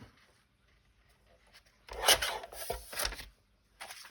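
A handheld paper trimmer slicing through paper during a craft subscription box session, heard as a quiet rasping swipe followed by a second scraping pass and a brief trailing rub near the end.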